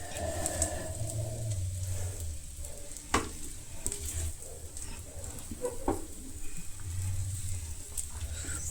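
Beaten eggs sizzling gently over low heat in a pan for egg fried rice while being folded, a steady soft crackle with occasional scraping stir sounds and a faint low hum.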